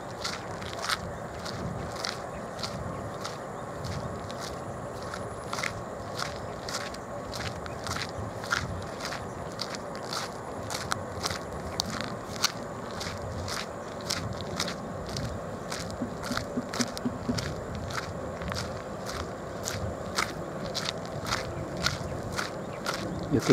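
Footsteps crunch steadily along a path beside a fishing lake in Semenyih, Malaysia, each step a close, sharp crackle repeating in an even walking rhythm over a constant outdoor background hiss.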